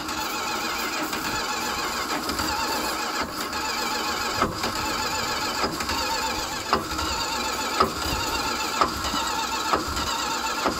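A car engine revs hard through a burnout, making a loud, sustained, rough drone with regular pulsing beats and occasional sharper bursts, no talking.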